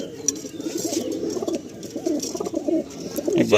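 Pigeons cooing in a loft of high-flying Chennai, Andhra, Malwai and Madrasi breeds, including breeding pairs on eggs; a dense, continuous chorus of near, low burbling coos with light patter and shuffling underneath.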